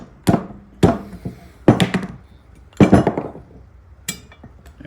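Five or six sharp metallic hammer blows ring out at uneven intervals as a pin is driven out of a jack during a teardown, each strike loud and close with a brief clanking decay.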